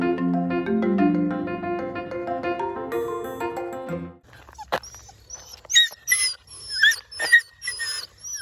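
Sustained tonal sounds give way to a 12-week-old puppy's high-pitched whines and yelps during a tantrum, coming in irregular, agitated bursts close by.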